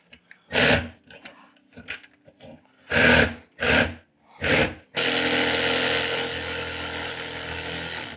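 Jigsaw cutting a hole in a wall for an electrical box: a few short bursts of buzzing blade, then a long steady cut that runs loud and close to the end.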